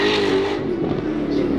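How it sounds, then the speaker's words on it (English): A car engine roars loudly nearby during a burnout at a car show, revving hard with a raspy, sustained tone and spinning tires. "We got a burnout here? Someone doing a burnout?"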